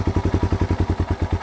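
A Yamaha TW200 motorcycle's single-cylinder engine running after a jump start from a portable battery box, a loud, close, rhythmic thumping idle with even regular pulses and no talk.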